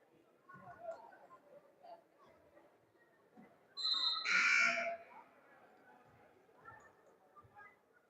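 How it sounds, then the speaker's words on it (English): A crowd at a youth tournament game chants the school cheer with crow-like 'caw caw' calls in one loud burst mid-clip. Quieter crowd murmur and gym noise fill the rest. "You hear the chant of "We are Marquette, caw caw.""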